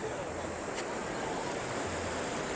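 Water from the overflowing Malir Dam rushing toward the river, a steady broadband roar of flowing water heard as continuous even noise with no talk.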